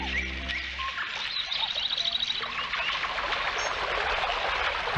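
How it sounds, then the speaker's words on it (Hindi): Birds chirp and tweet in quick repeated notes over a constant rushing background, like flowing water outdoors. "मैं तो बर्ड्स की चर्पिंग भी सुन सकता हूँ।"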